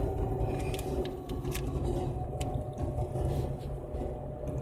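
Inside a moving car, a steady low road rumble and engine drone continue throughout with faint scattered clicks and rattles, and no voices.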